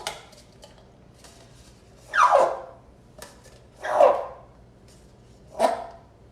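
Roaring cup made by pulling a wet string through a cup, giving three short, raspy, bark-like roars spaced about two seconds apart, close and fairly loud over a quiet background.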